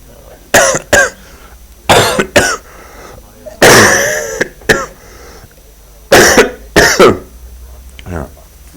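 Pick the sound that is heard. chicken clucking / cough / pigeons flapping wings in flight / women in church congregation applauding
cough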